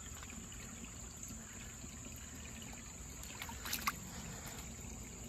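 A small creek trickles softly and steadily with quiet low rushing and faint splashes, heard outdoors at a rockhounding spot with no one talking.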